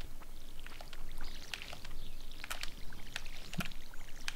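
Crops being watered in Stardew Valley by two players at once, a soft splashing, pouring water sound with bright droplet-like spatters repeating in irregular bursts, moderately quiet and with no talk.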